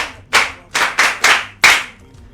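An audience gives five sharp, separate claps in unison, each spaced about a third of a second apart, close and loud with brief silence between.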